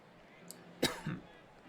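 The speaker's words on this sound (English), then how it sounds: "Sorry for the cough if you're just joining us or haven't known." A single short, dry cough from a commentator during an online baseball game broadcast, close and fairly loud, with a small follow-up throat sound after it and near-silence around.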